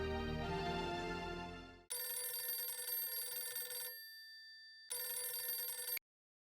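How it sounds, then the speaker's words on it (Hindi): An electronic telephone ringtone trills loudly and steadily during an outgoing call, sounding in two long bursts with a short silent gap between them, with no speech. "मैं एक मिनट सोडी को फिर से फोन लगाता हूँ।"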